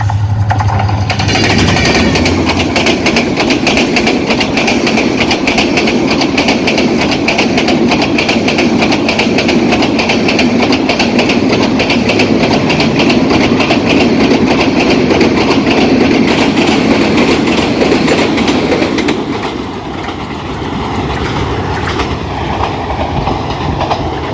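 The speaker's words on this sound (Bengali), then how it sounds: "ট্রেন যাচ্ছে" A train rolls past in a village on a stormy, rainy day, a loud, close, continuous rumble with rhythmic clickety-clack of wheels over rail joints for about twenty seconds before easing slightly.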